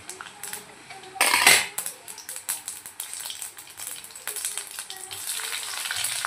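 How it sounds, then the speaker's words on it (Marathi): Mustard seeds dropped into peanuts frying in oil for rava upma, a sudden loud spitting crackle followed by continuous popping sizzle and light clinks of a spoon against the pan. "शेंगदाणे छान झाले तर आता आपण त्यात मोहरी टाकणार आहोत"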